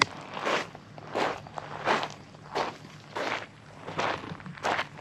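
Footsteps crunch over very dry ground near a low Texas lake in extreme heat, about eight steady, evenly paced crunches close to the microphone with no talking.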